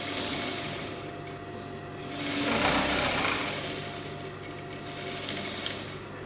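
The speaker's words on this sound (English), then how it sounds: "And then you just want to back stitch." A sewing machine runs steadily while back stitching two pieces of satin, a continuous close mechanical hum and rapid needle rattle that swells slightly in the middle, with no talking.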